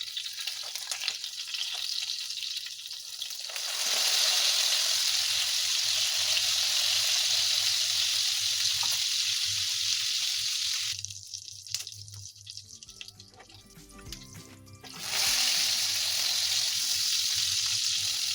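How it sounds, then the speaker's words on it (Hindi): Chicken burger kebab patties fry over a medium-low flame in a pan, a steady loud sizzle running throughout, briefly dropping away with some clinks and stirring around the middle before the full crackling returns. "ये देखिए इस तरह से हमारे कबाब जो हैं एक-एक करके फ्राई होते जाएँगे"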